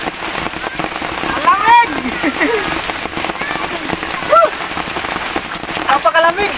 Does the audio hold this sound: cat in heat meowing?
no